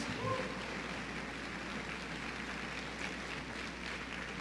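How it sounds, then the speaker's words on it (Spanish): Church congregation applauding during a sermon, a steady, even wash of many hands clapping at moderate distance throughout. "Dale un aplauso al Rey de Reyes y al Señor de Señores."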